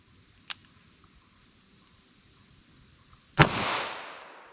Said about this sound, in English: Try our 22 Magnum now.